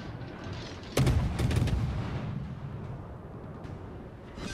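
Destroyer guns open fire in the naval battle game World of Warships, with one sharp, loud blast followed by a few quick rumbling booms that fade into a steady low roar.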